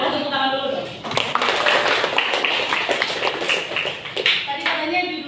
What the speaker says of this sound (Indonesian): Keren, tepuk tangan dulu dong.